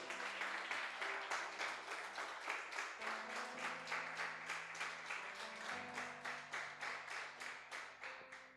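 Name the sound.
congregation applause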